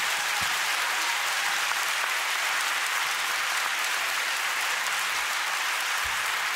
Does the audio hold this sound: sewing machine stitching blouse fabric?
no